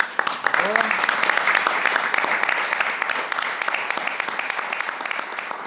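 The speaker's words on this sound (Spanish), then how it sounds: "nos debemos de dar un aplauso a todos" Audience at the end of a presentation on a new economy, applauding together in steady, sustained clapping, with a voice briefly heard near the start.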